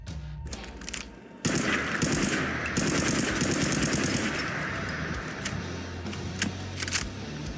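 Rapid automatic fire from a handmade assault SMG in Fallout 4, a PP-19 Vityaz-style gun using 7.62 rounds, rattles in dense sustained bursts after a short quiet lead-in, loud and close with crisp cracks and no talking.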